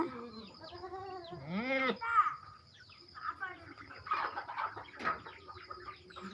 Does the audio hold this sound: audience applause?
no